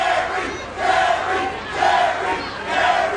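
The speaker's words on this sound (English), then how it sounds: "The crowd is definitely behind Jerry Lynn" A wrestling arena crowd chanting and cheering for Jerry Lynn during a TNA match, rhythmic swells of massed voices repeating in waves, loud and continuous.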